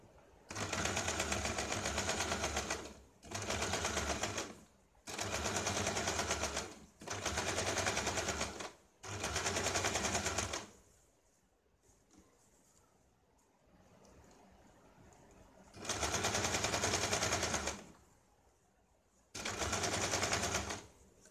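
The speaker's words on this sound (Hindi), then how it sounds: "अब इसके ऊपर हम सिलाई लगाते हैं।" A sewing machine stitches a patch onto a blouse in several loud close bursts of fast, even whirring, separated by short pauses and one longer quiet gap with faint handling noise.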